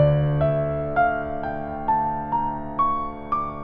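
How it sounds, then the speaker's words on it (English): A slow run of notes climbs step by step up a harmonic minor scale, each struck note ringing into the next, loud and alone with no talk over it. "Harmonic minor sounds like this."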